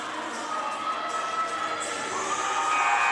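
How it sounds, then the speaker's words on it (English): Tampa volleyball fans cheering at an NCAA tournament match, a crowd of high-pitched shouts and whoops that swells steadily, with no clear talk over it. "Tampa fans showing the passion till the end, still cheering the team on"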